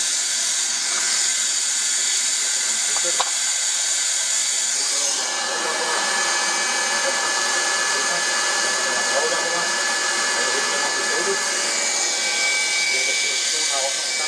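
A hot air welder runs steadily while sealing seams of vinyl wall covering in a wet room, giving a continuous close blowing hiss like a hair dryer that holds level throughout, with occasional faint handling noises beneath it.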